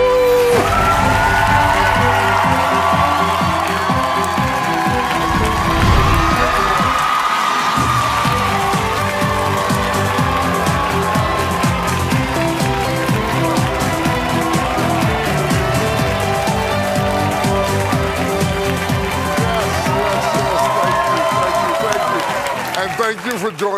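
A crowd cheers and whoops continuously, loud and close, with shouting voices mixed over a steady roar that holds for the whole stretch.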